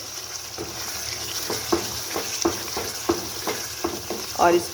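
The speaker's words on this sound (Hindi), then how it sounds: "और थोड़ी अच्छी तरह भुनेंगे, क्योंकि ये भुना गोश्त है, भुना मसाला गोश्त है" Beef masala with green chillies fries in a pan, a steady sizzle broken by rhythmic scraping stirs about every half second, close and loud, with a brief voice speaking over it.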